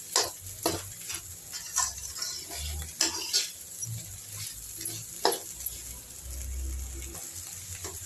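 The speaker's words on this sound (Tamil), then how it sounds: "நல்லா கிண்டி விட்டுக்கிட்டே இருங்க, இல்லாட்டி அடி பிடிச்சிடும்" A lotus stem stir-fry is stirred in a pan, with intermittent scraping and clinks of a spoon against the pan over a soft sizzle. The sounds come in irregular bursts, with no talking.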